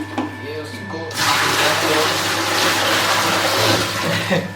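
Water gushes steadily after a short pause, as if stale water is poured out and replaced while cleaning at home, a loud continuous splashing rush heard close by.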